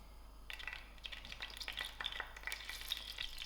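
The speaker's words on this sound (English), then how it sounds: "I've got my heat on medium. I'm going to add in my oil to my pot." Oil heating over medium heat in a pot while dhal curry is being made, a faint crackling sizzle that starts after half a second and keeps popping irregularly, with no voices.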